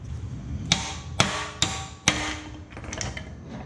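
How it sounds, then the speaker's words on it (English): Four sharp metallic hammer blows on a subframe bushing of a Honda CRX Si ring out at uneven intervals, each strike clanging with a short resonant tail, followed by a few lighter taps. "I'm just gonna grab your trusty old hammer and just kind of hit it"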